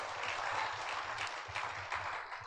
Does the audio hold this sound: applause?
yes